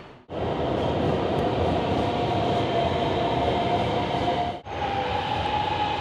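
A Hanoi metro train rumbles and hums steadily at speed, a continuous loud interior roar with a brief dip partway through.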